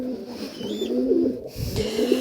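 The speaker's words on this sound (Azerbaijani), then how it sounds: "Arkada quşlar falan var." Pigeons coo inside a pigeon loft, low repeated throaty calls close by, layered and continuous, with a brief thump partway through and no talk.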